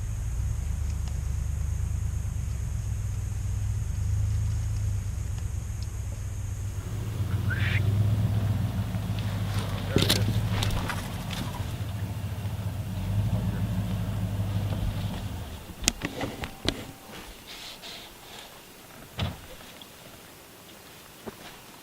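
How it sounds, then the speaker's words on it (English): A hunter's vehicle driving up a trail about 45 yards away, a steady low engine rumble for the first fifteen seconds that then fades out, leaving a quiet outdoor scene with a few faint knocks and clicks. "there was a vehicle from another hunter driving up the trail, which is 45 yards away from where we're sitting"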